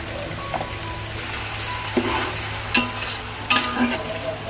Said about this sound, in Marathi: कांदा लसूण मस्तपैकी परतावून झालेला आहे ह्याच्यामध्ये आपण आता टोमॅटो घालून घेतोय